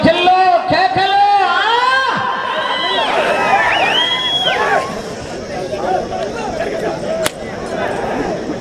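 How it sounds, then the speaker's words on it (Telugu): A crowd at a bull race event whistles and shouts, with piercing rising and falling whistles over a dense hubbub of voices, loud and close, giving way to general crowd noise and a brief sharp knock. "గట్టిగా విజిల్లు కేకలు"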